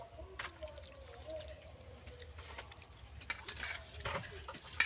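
A spoon stirs sugar into a drink of mashed raw mango and bael pulp with water, a soft, faint swishing and scraping that runs steadily throughout.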